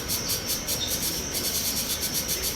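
Male cicadas sing high in the tree trunks of the Bajo Urubamba rainforest in Peru: a loud, dense insect drone that pulses rhythmically without a break.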